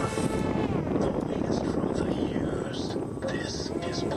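A twin-engine RC model aircraft, an IFY 60 Twinn night flyer, buzzes past overhead with a loud, steady engine drone that swells and fades, while people talk over it outdoors.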